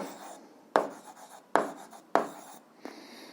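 Pen on paper writing out an algebra solution for a system of equations, close and quiet, with sharp stroke onsets and scratchy continuous strokes in an uneven rhythm.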